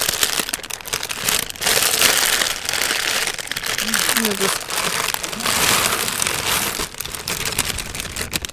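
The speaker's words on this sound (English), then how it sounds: "Do away with these loud plastic bags." Plastic bag crinkles and rustles loudly and almost continuously, with a person speaking briefly over the crackling.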